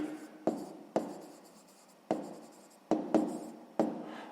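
A pen writes by hand on paper while working a sixth-grade maths exercise, giving a handful of soft, close scratching strokes separated by short pauses in a quiet room.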